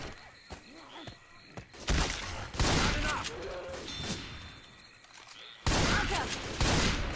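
Bursts of rapid gunfire and heavy thuds come in waves, loud and close, with shouted voices and game effects between the volleys, in the video game Left 4 Dead 2.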